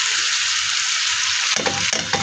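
Onion sizzles loudly and steadily in a hot oiled pan while Filipino chopsuey vegetable stir-fry cooks. Near the end a few scraping stirs break the hiss, and no one speaks.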